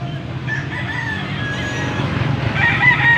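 A rooster crows twice in a noisy outdoor poultry market in Bocaue, Philippines, the calls fairly close and rising over a steady background hum of animals and activity.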